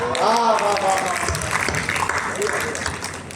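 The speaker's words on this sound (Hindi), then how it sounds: "एक बार जोरदार तालियां बजाकर हम स्वागत करते हैं आदरणीय दादा राजवीर शिखरवार जी" Applause welcomes a poet at a kavi sammelan poetry gathering in Ujjain, a crowd clapping steadily for a few seconds as a voice speaks over the start.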